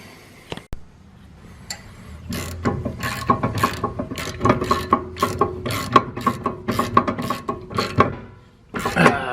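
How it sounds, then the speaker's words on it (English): Repeated ratchet clicks in quick bursts as car brake caliper bolts are tightened on a Lexus IS300 with a 2JZGTE swap, close and fairly loud, with metallic ticking and some background hum. "Just tightening up the calipers and then we can put the wheels back on."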